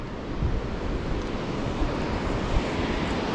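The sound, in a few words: fast-moving river water, Carbon River below bridge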